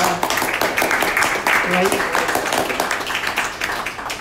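Applause from a gallery audience at a tea-and-tour event, dense steady clapping filling the room while voices talk over it.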